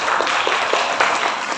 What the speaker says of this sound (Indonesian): Kita berikan tepuk tangan yang meriah untuk Mas Gofur.